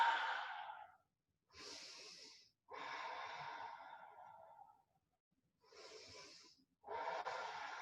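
Slow deep breaths in and out during a gentle yoga bridge pose, five long airy breaths separated by short silences, close and fairly soft, with no talking.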